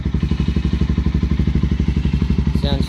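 2009 Honda CBR125R motorcycle with a slip-on exhaust idling close up, a deep, rhythmic, throaty pulse at an even beat, loud and steady, a brief higher noise near the end.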